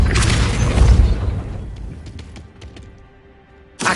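A Depulso force spell in Hogwarts Legacy hits with a loud, full booming burst that decays over about a second into scattered small clicks, then a second sharp onset cuts in at the end.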